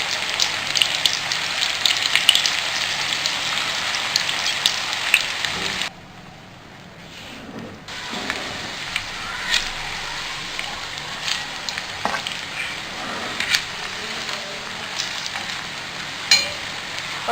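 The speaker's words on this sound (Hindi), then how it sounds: "और हमने अब इसे इतना फ्राई करना है कि जब तक इसके ऊपर गोल्डन कलर ना आ जाए।" Spicy green potato fritters bound with cornflour fry in oil with a dense, continuous crackling hiss that drops briefly quieter midway, then resumes with scattered pops; no one speaks.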